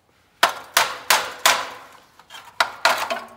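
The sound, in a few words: hammering on truck back housing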